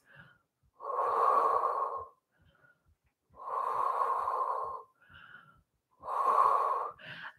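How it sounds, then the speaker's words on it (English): Three long, deep breaths during a standing Pilates exercise, each a loud, close, airy inhale or exhale of about a second and a half, separated by short pauses, with no talking. "And just take some deep breaths."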